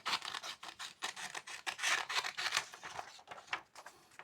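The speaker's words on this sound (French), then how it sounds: "Fais bien attention de découper entre les chiffres." Scissors snip through sheets of paper, cutting them into strips, with a rapid run of close, crisp cuts and rustling paper and no talk.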